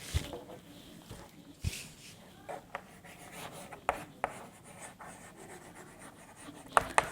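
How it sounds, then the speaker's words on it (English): Someone writes on a classroom board, and soft scratching strokes and light taps come at irregular intervals, close and faint, with no talk. "So, I am going to write the definition."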